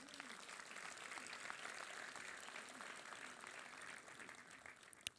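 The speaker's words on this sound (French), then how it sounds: "On peut l'applaudir." An audience at a French town New Year's greetings ceremony applauds, a soft, steady spread of clapping heard from a distance that stays even for several seconds before fading slightly, with one sharp knock near the end.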